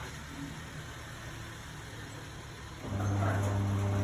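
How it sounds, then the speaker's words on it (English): A family car leaves from a home garage: a quiet low rumble, then at about three seconds the engine swells into a louder, steady hum as it pulls away. Nobody speaks. "that's mum's car just leaving, lads."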